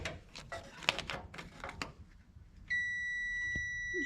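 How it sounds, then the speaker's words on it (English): Several quick clicks and ticks, then a steady electronic beep from a circuit tester on a Porsche 914 ignition harness, holding for over a second, clear and close, in an otherwise quiet space. "what we want is the beep."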